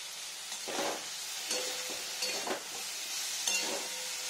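Slices of pointed gourd fry in a pan of oil, sizzling steadily up close while a spatula stirs and scrapes in bursts about once a second.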